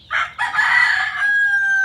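A rooster among chickens kept for sale crows once, loud and close, a ragged call that rises and then holds a long drawn-out final note.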